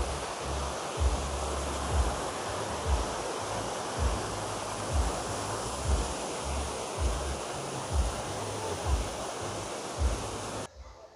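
A waterfall near Gangtok, Sikkim pours in a dense, steady roar of rushing water, loud and continuous with no break, while low thumping wind buffets the microphone.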